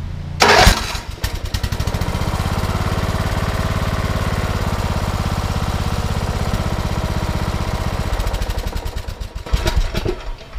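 A 2008 TroyBilt Pony riding lawn mower engine cranks and fires up, then runs at a steady loud chugging idle for several seconds before shutting down, with no talk.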